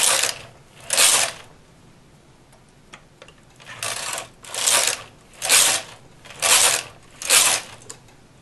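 Carriage of a knitting machine sliding back and forth across the needle bed to knit rows, a series of regular swishing, clacking passes, about seven strokes with short pauses between them, close and fairly quiet with no talking.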